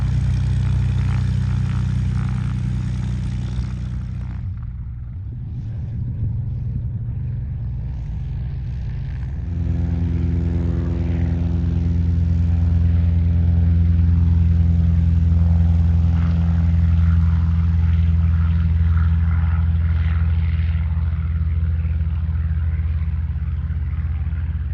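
A pink propeller airplane capable of 200 mph takes off: a steady engine drone briefly softens, then surges into a louder, sustained propeller roar that holds for the rest of the run.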